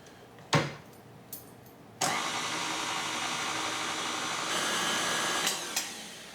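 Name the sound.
electric blender blending sweet potatoes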